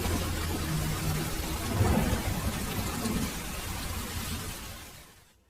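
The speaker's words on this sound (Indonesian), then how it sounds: "Malam harinya, hutan tersebut diguyur hujan sangat lebat." Heavy rain pours onto a forest at night, a dense continuous hiss with low thunder rumbling beneath, before the sound fades away at the end.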